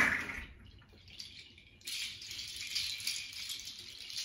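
A seed rattle held by its loop, fingers run through the hanging seeds, giving a soft continuous rustling shimmer that swells brighter after a quieter start, close and alone.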